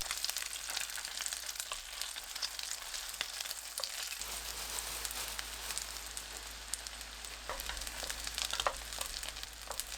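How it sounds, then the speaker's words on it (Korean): Egg-coated pollock fillets pan-frying over medium to medium-low heat for buckwheat pollock jeon, a steady close sizzle with scattered crackles and light pops throughout, no voices. "동태포에 계란 입혀 팬에 올려주세요. 중불에서 중약불로 탄탄하게 부쳐냅니다."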